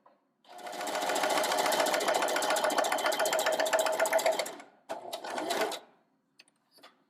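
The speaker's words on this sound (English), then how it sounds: "now that I've got everything lined up and ready to go along my 1/4 inch seam allowance, I'm going to start sewing" A sewing machine runs steadily for about four seconds, stitching a quilt seam at a quarter-inch allowance, then stops and gives a second short burst. The close mechanical whir is heard alone.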